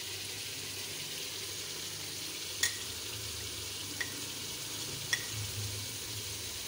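Chicken sizzles and fries in a pan for shahi daal, a steady, fairly quiet hiss with a few faint clicks, heard alone without talk.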